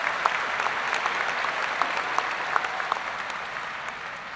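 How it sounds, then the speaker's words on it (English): Audience applause at a high school graduation ceremony: a dense, steady wash of many hands clapping, moderately loud throughout with a few sharper individual claps standing out. "It deserves an applause."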